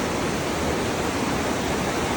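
A fast river rushes through a forest, producing a dense, unbroken roar of flowing water that stays loud and even throughout, with no voices.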